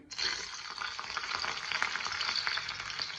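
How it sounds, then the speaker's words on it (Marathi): Garlic dropped into well-heated oil, crackling into a steady, bright sizzle that starts abruptly and holds close and fairly loud throughout, with no talking. "तेल छान तापलेलं आहे. आता यात प्रथम आपल्याला लसूण घालायचे."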